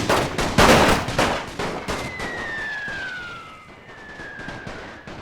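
Rapid bursts of cannon and gunfire from a battle in the video game The Great War 6.0, dense crackling shots throughout with a rising whistle-like tone mid-way, loud and continuous.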